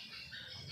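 Swiftlet call played through a loudspeaker at a swiftlet house, a steady, continuous high chirping drone that runs unbroken through the short moment, fairly faint.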